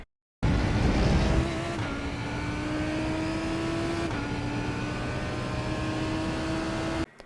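Lamborghini GT3 race car engine lapping Laguna Seca in the iRacing simulator, a steady high-pitched drone with gear-change steps in pitch as it accelerates, loud and continuous, cutting off abruptly at the end.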